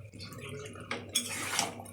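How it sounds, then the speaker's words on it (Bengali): Snakehead fish heads are stirred in a cooking pot with gourd, giving a few scraping, clinking metal-on-pot sounds and a brief wet sizzle, close and fairly quiet. "এবার ছেড়ে দেব মাছগুলো, শোল মাছের মাথাগুলো। তারপরে নেড়ে চেড়ে নেব।"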